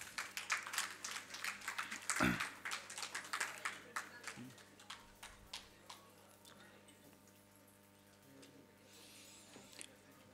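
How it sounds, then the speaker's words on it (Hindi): Applause at a university convocation ceremony in New Delhi, starting dense and loud with many clapping hands, then thinning and fading over several seconds amid a reverberant hall background. "एक बार जोरदार तालियां"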